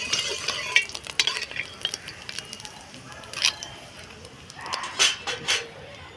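Hot oil in a cooking pan, ready for onion and spices, with scattered clatter, a utensil scraping and faint sizzling bursts, some louder near the end.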